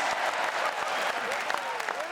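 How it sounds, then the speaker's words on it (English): A room full of people erupts in applause and cheering as votes are counted, a dense, steady wash of clapping with shouts and whoops mixed in, loud and continuous. "Everyone was cheering"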